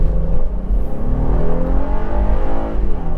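A 2022 Honda Passport Trailsport's V6 engine pulls hard during a handling test, a loud, steady drone with rising harmonics and slight pitch shifts as it accelerates, with no voices over it.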